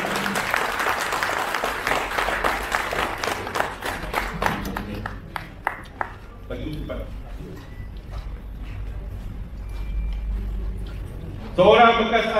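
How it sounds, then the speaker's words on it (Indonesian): At an association's annual general meeting, a crowd claps loudly at first, the applause thinning into sparse claps that die away, followed by a speaking voice over the hall. "Tepukkan dulu"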